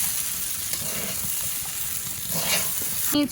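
Vegetable khichuri made with Gobindobhog rice fries in a pan while being stirred, a soft steady sizzle with a few scraping stirs and a brief clatter at the end.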